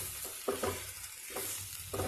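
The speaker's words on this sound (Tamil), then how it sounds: "இப்போ இதை நல்லா வறுத்து விடுவோம்." Ingredients for mango vatha kuzhambu, salt just added, are stir-fried in a pan, with a quiet continuous sizzle and a few scraping stirs of a ladle in short bursts, close but faint, no voices.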